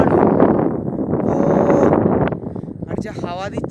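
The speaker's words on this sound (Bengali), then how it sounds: "আর যা হাওয়া দিচ্ছে" Strong wind buffets the microphone atop Deomali, Odisha's highest mountain peak, in light drizzle, a loud continuous roar under a person talking throughout.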